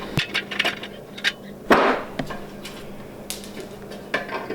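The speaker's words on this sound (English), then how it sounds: "All you need to do is take your wrench and turn it counterclockwise." Wrench turning a nut counterclockwise while installing a Predator engine Stage 1 kit, a series of close metallic clinks and ratcheting knocks at irregular intervals, with one louder scraping clank near the middle.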